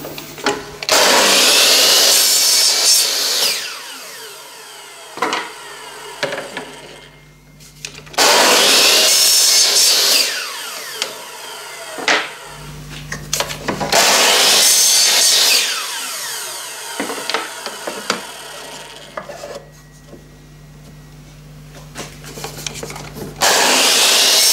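Shop-made aluminium rivets are trimmed with a power tool, loud harsh grinding in three long bursts with brief pauses between, close up and with no talking.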